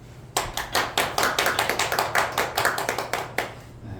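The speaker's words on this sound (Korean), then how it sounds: "박수합시다." A church congregation at a Sunday worship service claps along after a prayer, a brisk, fairly even run of clear hand claps close by, starting abruptly and carrying on without talk.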